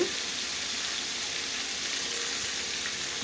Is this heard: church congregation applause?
no